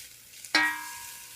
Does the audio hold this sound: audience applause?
no